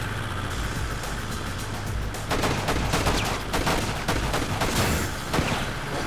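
SMG fire in the Enter The Matrix game, a steady background roar broken by bursts of sharp, rapid shots that cluster in the middle of the clip and continue loudly to the end.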